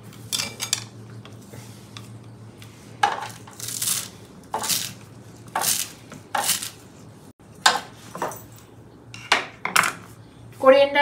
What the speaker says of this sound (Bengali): ওই জন্য কেটে নিচ্ছি সবজিগুলো